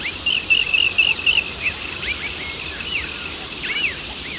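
A rainbow bee-eater perched on a power line at Red Rock, NSW gives repeated rolling, cricket-like trills, clear at first and then looser and more scattered over steady outdoor background noise.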